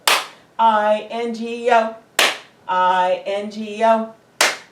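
Sharp single hand claps, three in all, take the place of a letter during a children's storytime sing-along of the Bingo song, each clap ringing out loud and close between stretches of sung letters.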